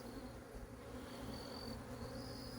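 A package box holding about 3,000 honeybees gives off a dense, continuous buzzing hum, steady and close, with faint higher whines drifting over it and no voices.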